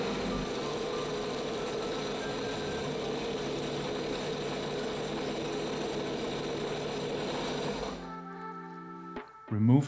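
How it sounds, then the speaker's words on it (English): A 2024 Sea-Doo Spark engine idles while antifreeze is flushed through it, giving a steady mid-pitched drone for about eight seconds before it cuts out, followed by a brief clatter at the end. "while the engine is running at idle"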